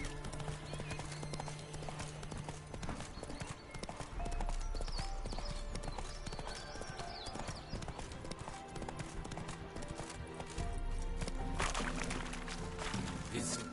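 Roach the horse's hooves clip-clop steadily through Witcher 3 gameplay, an even walking rhythm over a dense bed of game music and ambience, with a brief whinny-like moment and some voice in the mix.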